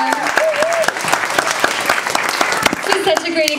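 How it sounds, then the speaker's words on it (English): An audience applauds children after their Aristocats stage show, dense steady clapping with sharp individual claps standing out while someone speaks over it. "Can we get one more round of applause for our kiddos?"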